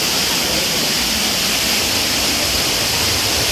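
Loud, steady roar of rushing water beneath Annandale Waterfall in Grenada, a dense continuous wash of falling water heard up close with no voices.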